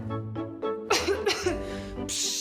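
Several harsh, wet coughs from a TV advertisement burst out in a short series, close and loud, separated by brief breaths.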